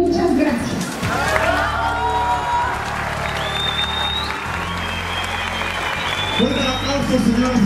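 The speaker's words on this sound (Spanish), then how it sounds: "Señoras y señores, fuerte el aplauso para nuestra presidenta municipal constitucional de Huejotzingo, Puebla" Audience applause at a mayoral swearing-in ceremony in Huejotzingo, Puebla: a dense, steady wash of clapping with crowd noise and cheering runs throughout, while an amplified voice carries over the top.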